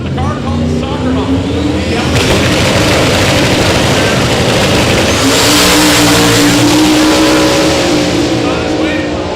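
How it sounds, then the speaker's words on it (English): A drag race car, the car called Soccer Mom from KSR Performance and Fabrication, roars down the strip at Sick Week 2023 in Bradenton. The engine is loud and sustained, with a commentator talking over it. "here comes another car that would love to have a one and done"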